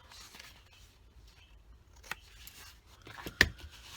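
Scissors snipping the corners off paper while making a flipbook, a few faint close snips and rustles with one sharper cut near the end, quiet room otherwise.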